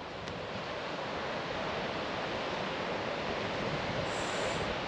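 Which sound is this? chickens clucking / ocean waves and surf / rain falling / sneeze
ocean waves and surf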